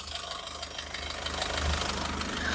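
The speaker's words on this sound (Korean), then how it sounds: "마지막으로 엔진 사운드 확인해 드릴게요." A SsangYong Rexton Sports pickup with off-road lift and all-terrain tires idles with the bonnet open, a steady, smooth mid-pitched engine hum with a faint even rattle, heard close and alone.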